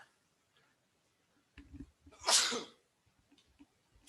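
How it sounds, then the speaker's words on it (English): A single loud, sharp sneeze bursts out close by, preceded by a faint intake of breath and followed by quiet rustling. "the sneeze is real"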